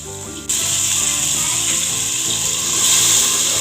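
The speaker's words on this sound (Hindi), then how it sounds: "इसको मैं अच्छे से भून लूँगी अदरक लहसुन के पेस्ट को" Ginger garlic paste fries with browned onions in a pot, a steady loud sizzle that starts abruptly and hisses continuously, with a faint mechanical rattle underneath.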